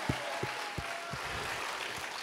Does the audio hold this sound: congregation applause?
yes